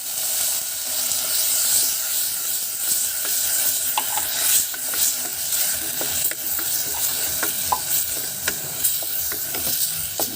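Corned beef fries in a pan with a continuous, close sizzle, and scattered clicks and scrapes from stirring run through it.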